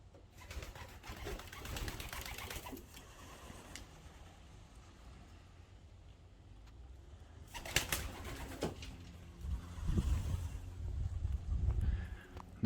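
Pigeons coo softly and intermittently, young and old birds together, with occasional wing flaps and louder bursts of flutter toward the end.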